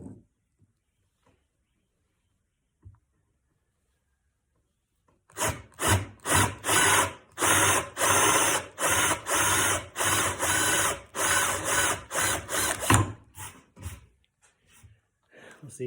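Hand sawing through hard old wood from a broken rocking chair starts after a quiet stretch, with loud, steady back-and-forth strokes in a fast rhythm that runs for several seconds, then trails off into a few lighter scrapes.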